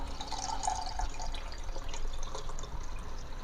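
Lemon water sweetened with unrefined sugar trickles and drips steadily through a strainer, a close, continuous wet splashing with no voices.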